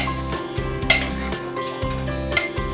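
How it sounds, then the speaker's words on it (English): Vegetables with tomato and flour mixed in a cooking pot for a gravy, producing repeated metallic clinks and scrapes of a spoon against the pot in quick irregular bursts, close and clear with no voices. "I'll now mix all this"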